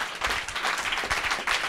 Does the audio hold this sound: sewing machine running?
no